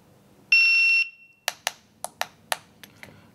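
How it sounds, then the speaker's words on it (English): A CED7000PRO shot timer gives one loud, steady electronic start beep for about half a second during a Steel Challenge run, followed by a string of sharp, evenly spaced cracks. "Activate the timer again."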